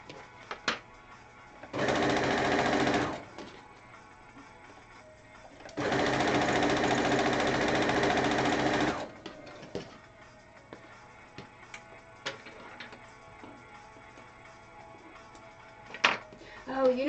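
A sewing machine stitches a corset quilt in two long bursts of fast, steady whirring, the second longer than the first. Between and after the bursts come quieter clicks and handling noises, all heard close up.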